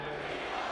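Large political rally crowd in Michigan cheers for President Trump, a broad, distant roar of many voices sustained for a brief moment without distinct individual words.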